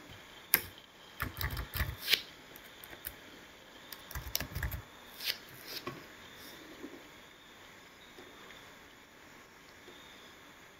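Typing on a computer keyboard in a word processor, irregular bursts of close, crisp key clicks with short pauses between them, no talking.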